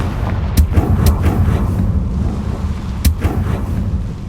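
Explosive spell blasts in the Hogwarts Legacy video game go off as several sharp booms over a rumbling, cavernous game soundscape, with no one speaking.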